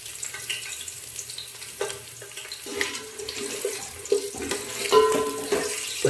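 Cooked chicken biryani rice poured into a mesh strainer, with running, splashing water and wet clatter building toward the end, loud and close.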